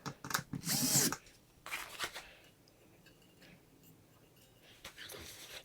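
Power drill driving the ground screw tight in a ceiling fan electrical box, a short loud whirring burst followed by quieter brief spins and faint handling noises.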